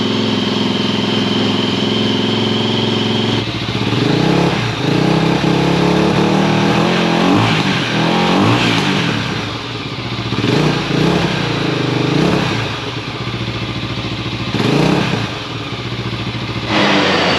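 A Motorstar Cafe 400 motorcycle's 400cc engine turns over and catches, then settles into a loud, steady idle with a few revs rising and falling close by.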